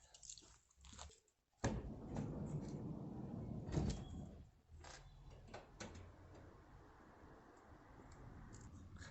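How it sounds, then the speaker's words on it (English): A Toyota Proace van's side door slides open with a loud rumbling roll after a few quiet clicks, then settles into softer knocks and handling noises. "I'm actually going to open the side door"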